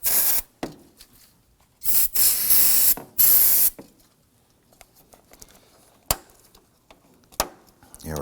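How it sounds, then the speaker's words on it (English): Several short, sharp hissing blasts from an aerosol can of spray solvent, separated by quiet pauses, with faint clicks and handling noises in between, while working on a 2003-2014 Volvo XC90 low beam bulb. "We take a little bit of spray solvent and we're going to try and"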